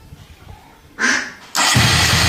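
Motorcycle with a fresh battery pack fired up on its electric starter: a brief whirring crank, a short pause, then the engine catches into a loud, steady running roar that continues to the end.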